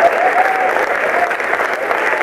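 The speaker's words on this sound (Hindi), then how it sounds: "7-8 लोगों ने ताली बजाई है," A short burst of scattered audience applause at a public stage event, a thin patter of clapping from a small number of people in the hall, steady for a couple of seconds.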